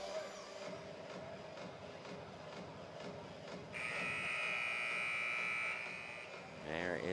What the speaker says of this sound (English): There is the buzzer as we're getting ready to start off the second half.